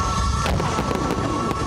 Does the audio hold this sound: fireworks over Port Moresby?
yes